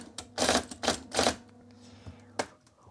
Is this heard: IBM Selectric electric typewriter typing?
yes